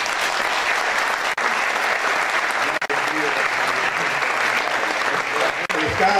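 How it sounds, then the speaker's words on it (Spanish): Sustained applause from an audience at the closing panel of an economics congress, steady and dense throughout with a few brief dips, moderately loud and close. "un especial aplauso"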